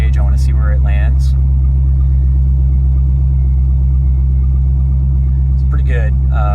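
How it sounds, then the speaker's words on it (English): Spec Corvette engine idling after a cold start, a loud deep steady rumble with a low throb close by, while someone talks briefly over it at the start and end. "car fires up okay"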